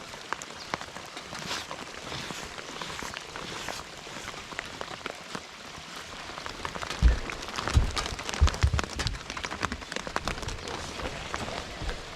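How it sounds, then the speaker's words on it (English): Steady rain falls on a surface near shallow, fast water, a dense continuous patter with a few louder close drops midway, no voices. "Raining"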